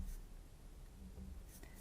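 A thick pen draws short lines on card, a soft, faint scratchy stroke or two, close up, in a quiet room.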